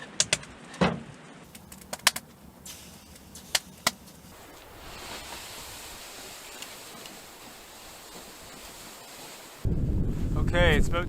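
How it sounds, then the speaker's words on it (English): Winter wind outdoors at an ice-fishing camp, heard mostly as a sudden loud, rough gust buffeting the microphone near the end, after a quiet stretch with a few scattered sharp clicks and faint chirps. "Wind is picking up and it's going to get substantially worse."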